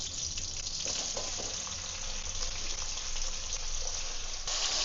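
Chopped tomatoes hitting hot oil with onions in a pan, a steady broad sizzle and frying hiss that runs close and continuous throughout.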